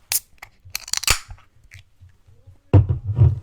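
A can of low-ABV raspberry sour beer is cracked open with a sharp snap among small clicks and handling noises. A louder fizzing, rustling burst follows near the end.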